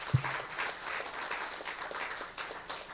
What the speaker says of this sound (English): a big round of applause for everyone who has presented this morning